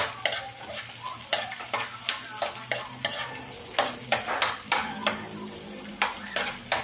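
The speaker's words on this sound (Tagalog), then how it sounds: "Igisa lang ang bawang." Garlic sautéing in a pan for pork afritada, frying sizzle under repeated rhythmic scraping and stirring strokes about twice a second, close and fairly loud, no talk.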